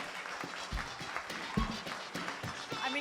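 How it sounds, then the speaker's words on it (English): Audience applause at the Canvas Eco FW 2024 fashion show, a fairly faint, steady patter of clapping from a crowd with scattered louder claps, mixed with voices. "Let's give her another round of applause."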